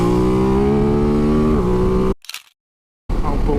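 A 2022 Ducati DesertX with a V-twin engine roars past at close range, its tone holding high and then dropping as it goes by. The sound cuts out abruptly to near silence for about a second, then returns loud.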